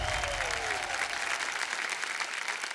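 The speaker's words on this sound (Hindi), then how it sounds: "जोरदार तालियां" A studio audience on a Hindi TV game show applauds a round's winner with dense, even clapping that carries on at a steady level, briefly overlapped by a short tonal sound at the start.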